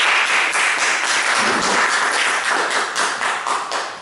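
Clapping from a lecture audience after a talk on progressives versus conservatives, a loud, dense burst of many hands that holds steady and then begins to taper at the end.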